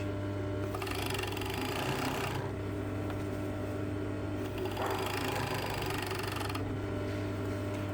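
A sewing machine stitches the side seam of tailored shorts in two quiet, steady bursts of fast mechanical whirring, separated by a pause of low motor hum.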